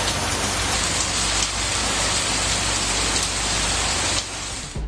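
Heavy summer rain pours around Kumbakonam in Tamil Nadu as a dense, steady hiss that is loud and close, easing slightly just before the end.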